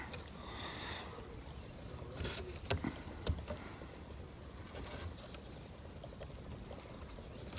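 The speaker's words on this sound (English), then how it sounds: "So all of your acid's gonna go into your battery." Battery acid glugs and trickles into a new motorcycle battery during setup, a soft gurgling pour with a couple of small bubbling pops midway, fairly quiet and close with no one speaking.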